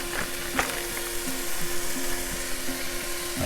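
Ground hamburger meat frying in a pan for Greek moussaka, a steady close sizzle with scraping stirs and a low hum running underneath.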